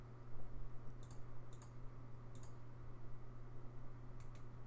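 Several faint, crisp mouse clicks from a computer running VirtualBox sound at uneven intervals over a steady low electrical hum.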